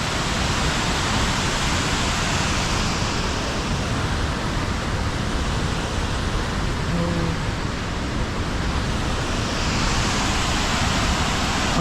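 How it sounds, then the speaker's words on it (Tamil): Jogini waterfall near Manali pours down forcefully, a steady, loud broadband roar of crashing water that holds constant without a break. "வெறித்தனமாக கொட்டுது தண்ணி."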